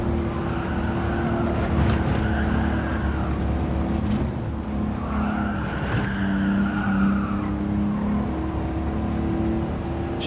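An Aston Martin race car in Gran Turismo 7 on the Goodwood circuit, its engine droning steadily while the tires squeal and skid in long repeated slides through the corners, loud and close throughout.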